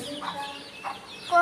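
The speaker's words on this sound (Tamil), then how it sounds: "கோழி குஞ்சு" Chicken chicks cluck and peep in a few soft, short bursts at close range, with a faint voice in the background.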